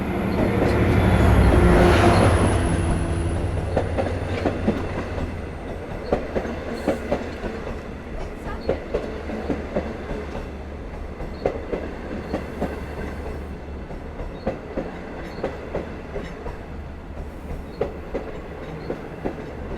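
A Long Island Rail Road passenger train of 12 Kawasaki C3 bilevel cars rumbles past at Westhampton, swelling loud early then settling into a steady clickety-clack of wheels over rail joints that continues to the end.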